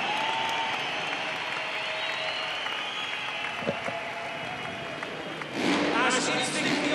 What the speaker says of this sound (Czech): To ticho prolomil velký a až huronský aplaus.